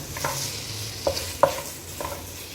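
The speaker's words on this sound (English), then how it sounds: "we'll be frying it for a while" Chicken seasoned with ginger, garlic and chicken seasoning frying in a pan, a soft steady sizzle broken by a few sharp scraping stirs, close and without talk.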